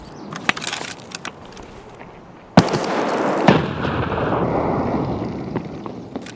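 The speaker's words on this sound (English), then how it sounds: "I just keep shooting this guy" Gunfire in the shooter game Escape from Tarkov: a few sharp close reports at first, then two loud shots about a second apart followed by a sustained noisy wash, with no talking.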